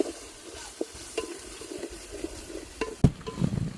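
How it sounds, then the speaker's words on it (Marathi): Masala paste with chicken soup is sautéed and stirred on a wood-fired stove for a country chicken dish: soft scraping and stirring strokes over a quiet, gentle sizzle, ending in a few louder clanks and splutters. "सूप घालून घालून हे सूप आटेपर्यंत आपल्याला वाटण परतायचंय"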